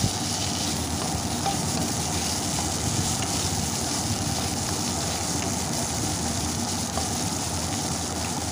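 Spices and potatoes frying together with garlic paste in a pan for bhola fish curry give off a steady, even sizzle that continues alone without pause.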